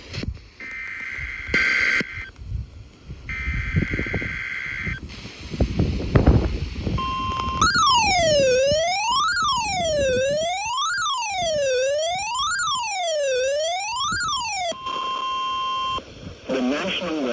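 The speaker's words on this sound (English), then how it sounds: "has just activated the warning alarm on 13 more weather radio stations across central and southern Minnesota and west central Wisconsin." An emergency alert weather radio warning alarm for central and southern Minnesota and west central Wisconsin, with harsh data-burst buzzes, then a loud rising-and-falling wailing siren tone repeating for several seconds, followed by more buzzing bursts.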